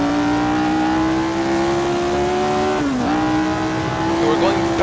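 Jim Clark's vintage Formula 1 car in Assetto Corsa screams around the 1966 Monza oval, a loud steady high-revving engine whine with a brief pitch dip as it slides without grip.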